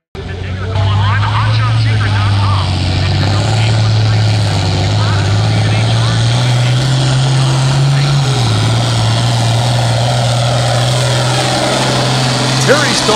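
A diesel tractor in the 3LM class pulls at the Oklahoma Diesel Nationals, its loud engine droning steadily and close with a slight pitch rise and dip, a commentator talking over it.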